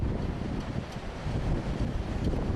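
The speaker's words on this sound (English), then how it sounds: "But it is very windy out here." Strong, steady wind from Hurricane Earl roars and buffets a microphone outdoors near the ocean at night, a continuous low, rumbling gusty noise with no voices.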